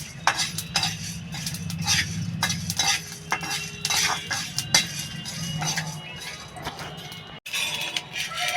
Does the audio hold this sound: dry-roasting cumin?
yes